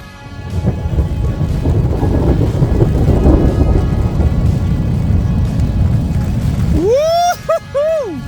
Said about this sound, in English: We got thunder down the valley coming.